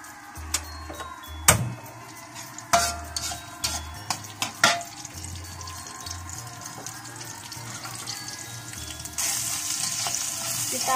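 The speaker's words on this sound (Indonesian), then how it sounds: "Sekarang kita tumis dulu ya bawang merahnya." Shallots being sautéed in a pan for chicken rica-rica with basil, with a steady frying sizzle, several sharp spatula stirring clanks, and a brief tap of running water near the end.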